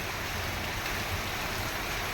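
Heavy rain pours steadily over waterlogged village farm fields, a dense, continuous hiss of falling water with no break.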